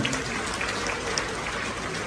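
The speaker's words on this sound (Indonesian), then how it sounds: "Tepuk tangan untuk Atomy." A corporate audience at an Atomy company introduction event in Jakarta claps, a dense, even, fairly distant patter of many hands filling the room.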